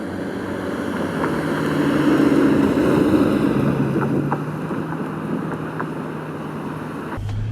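A 2012–2015 Bentley Continental GT with a W12 engine drives on the road, a steady low engine drone with wind and road rush that swells midway and stays fairly loud throughout.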